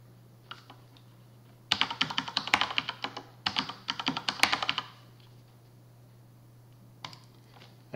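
A password is typed on a computer keyboard during a Fedora Linux install: two quick bursts of rapid, close key clicks, with a few isolated taps before and after, in a quiet room.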